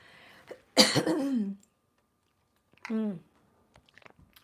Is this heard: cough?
yes